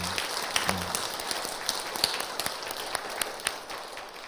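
Scattered applause from a church congregation honouring its elderly members, a soft dense patter of clapping that stays fairly even and moderately distant for a few seconds.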